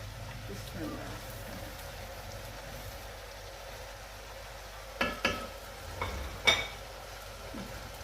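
Chopped tomatoes and green chillies fry with onions in a pan for a chicken and capsicum gravy, giving a steady soft sizzle with a few sharp utensil clinks against the pan near the end.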